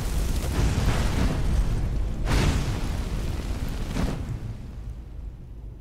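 Fire spell explosions in Skyrim boom out as two or three heavy, rumbling bursts a couple of seconds apart over a low roaring background, loud and close before fading.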